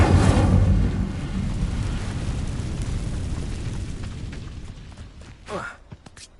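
Incendio fire spell cast in Hogwarts Legacy, a loud fiery whoosh-boom that erupts at once and rumbles away over several seconds, ending in a few faint pops and crackles.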